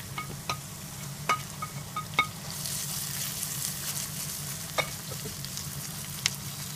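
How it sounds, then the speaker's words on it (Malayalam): Sliced garlic and green chilies sizzle steadily in a hot pan for a Malabar prawn pickle, with a constant frying hiss broken by several sharp clicks and scrapes of a stirring spoon. "സ്ലൈസ് ചെയ്ത് വെച്ചിട്ടുള്ള വെളുത്തുള്ളിയും പച്ചമുളകും ചേർത്ത് നന്നായി വഴറ്റിയെടുക്കാം"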